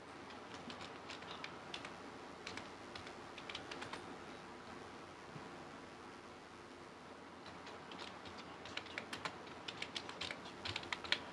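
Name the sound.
typing on a computer keyboard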